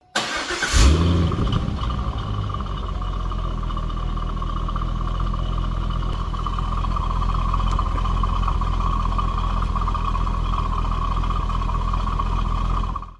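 A Corvette C5 V8 engine with stock exhaust cranks and fires up with a loud bark, then settles into a steady, deep burbling idle that continues throughout.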